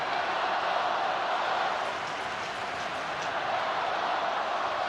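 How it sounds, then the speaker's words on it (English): Buffalo Sabres fans at a 1993 playoff hockey game in the arena make a steady, dense crowd roar, broad and sustained with no distinct chants standing out. "now the Sabres fans trying to lift the spirits of their team"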